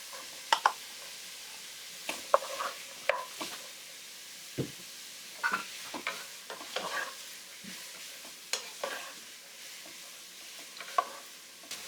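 Onion for Trinidad fried rice sautés in a pan under a soft, low sizzle, broken by repeated sharp scrapes and clacks of a spoon stirring at irregular intervals. No one speaks.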